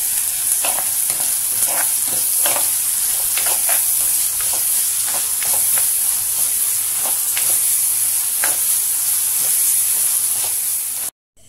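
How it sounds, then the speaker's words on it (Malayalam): Chopped onion frying in hot oil in a home kitchen, a steady dense sizzle with crackling pops and the occasional stir, close and constant with no talking. "എണ്ണ ചൂടായി വന്നിട്ടുണ്ട് നമുക്ക് അതിലേക്ക് ഈ സവാള ഇട്ട് കൊടുക്കാം"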